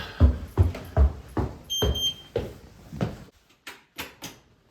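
Short high electronic beeps from a skateboard shop's security alarm panel ring out among a series of thumps and clunks, as if doors or shutters are being handled nearby.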